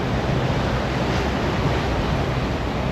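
Steady rushing wind and wave wash aboard a Leopard 50 catamaran motoring east into a headwind off the bow, loud and continuous with heavy low rumble and microphone wind buffeting.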